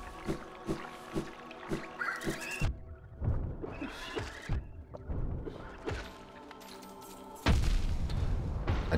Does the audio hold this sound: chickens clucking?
no